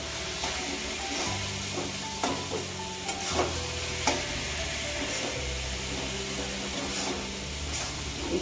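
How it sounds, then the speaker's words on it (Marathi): Cashews and raisins are stirred into carrot halwa frying in a pan, giving a continuous low sizzle with periodic scraping clinks of the spoon, close and moderately quiet, with no voices. "त्याच्यामध्ये हे काजू मनुके टाकून घेते. हे पण ढवळून घेते."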